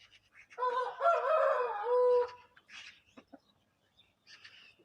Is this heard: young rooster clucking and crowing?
yes